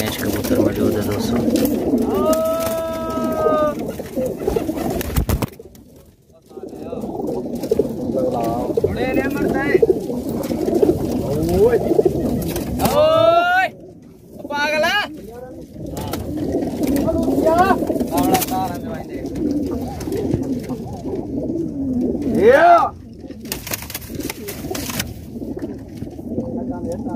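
Pigeons, including Mughal and Patinch breeds, coo in low, throaty bursts throughout, mixed with occasional chirps and bird calls, with a steady background hum and brief gaps of near silence.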